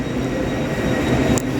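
A train at King's Cross railway station in London, a loud, close rumble of wheels and carriages rolling steadily, with a brief metallic squeal near the end and no talking.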